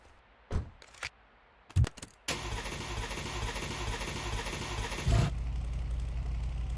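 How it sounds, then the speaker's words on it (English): A truck in the video game Car Mechanic Simulator 2026 cranks with a few short bursts, then fires up and runs at a steady, loud idle that settles into a lower rumble after a brief rev. "let's go ahead and try to start up this truck."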